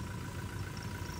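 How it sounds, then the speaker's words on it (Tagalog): A quiet Honda engine in a jeep idles with a low, even hum throughout, soft and steady without any revving. "Sobrang tahimik po ng makina."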